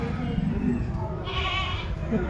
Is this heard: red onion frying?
no